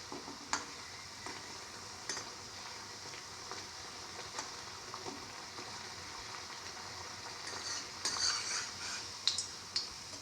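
Winter melon chickpea flour fritters fry in oil in a pan, giving a steady low sizzle broken by occasional scraping stirs and clinks as they are turned, with the frying growing brighter and busier toward the end.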